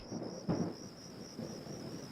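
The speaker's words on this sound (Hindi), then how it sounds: "बारिश आ गई" Low rolling thunder rumbles twice under a steady patter of rain, with a thin high insect-like tone running throughout.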